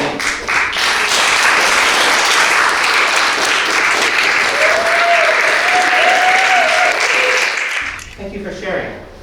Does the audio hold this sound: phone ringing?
no